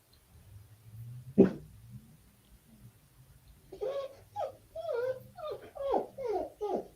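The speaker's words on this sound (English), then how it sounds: "you're going to hear the dog whining in the background" A dog whines in a run of high, wavering, sliding whimpers that come in quick succession, moderately close, after a sharp thump and a quiet stretch of low room noise.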